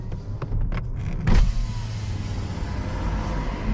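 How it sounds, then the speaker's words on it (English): Electric motor hum of the power windows lowering in a 2025 Toyota Camry LE Hybrid, heard from inside the cabin as a steady whir under road and car noise, with a brief louder bump partway through. "Open the windows."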